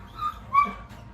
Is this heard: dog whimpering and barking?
yes